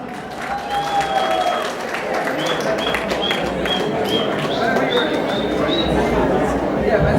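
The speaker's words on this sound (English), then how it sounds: "let's give him a big, another big round of applause" Sustained crowd applause at an evening gala, loud and dense, carrying on for several seconds while brief high tones chirp faintly above the clapping.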